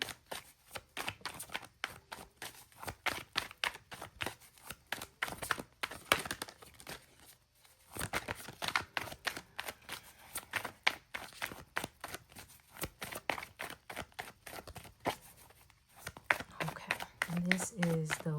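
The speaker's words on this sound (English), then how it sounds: "Let me continue to shuffle." Tarot cards are shuffled by hand in quick, crisp riffles and slides that recur in close bursts with brief pauses between them.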